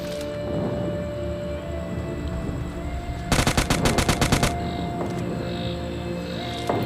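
Rapid burst of UMP submachine gun fire in the mobile shooter PUBG Mobile Lite, a loud run of about a dozen close, evenly spaced shots lasting roughly a second over steady game ambience.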